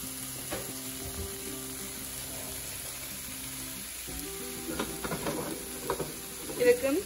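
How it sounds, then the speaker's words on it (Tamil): Eggs fry in a pan alongside a kottu roti mixture with a soft, steady sizzle, broken by a few clinks and scraping stirs that grow busier toward the end. "we're gonna grab four eggs and we're gonna crack that on the other side of the pan"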